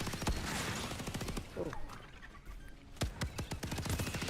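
Gunfire in the VR shooter Starship Troopers: loud, close bursts of rapid automatic shots, with a short lull in the middle before the firing resumes.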